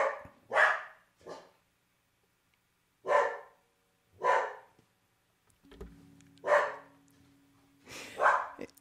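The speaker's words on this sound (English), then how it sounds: "While my dog is barking" A dog barks indoors in sharp, separate bursts, about seven barks spread unevenly with short silent pauses between them, moderately loud and close, with no talking.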